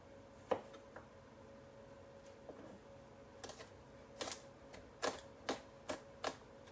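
A knife trims the crusty end of a whole fish on a cutting board in a quiet kitchen, making a string of sharp, separate taps and clicks, sparse at first and then quicker near the end.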